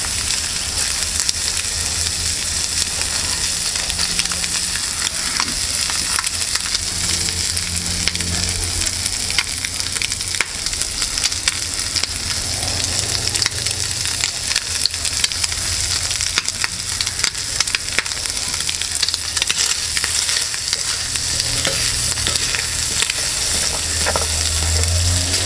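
Bacon and eggs frying over a Solo Stove alcohol burner on a Solo Light double-wall pan outdoors, a loud, unbroken crackling sizzle up close that runs steadily with faint spattering throughout.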